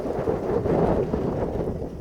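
A sudden, unforecast thunderstorm on a Sunday afternoon brings heavy rain, heard as a steady, dense roar of rainfall with low rumbling, fairly close and uninterrupted, with no voices.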